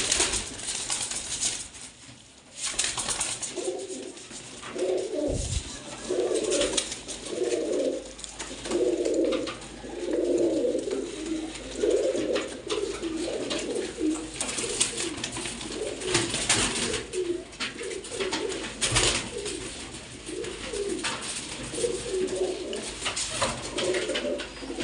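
Pigeons coo in soft, repeated rolling phrases, close by and steady through the clip, with occasional rustles and faint background noise.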